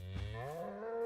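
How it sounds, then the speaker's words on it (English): A single drawn-out cow moo in a video game, rising then holding steady, fairly close and clear with no talking. "I know those are cows. Those are cows."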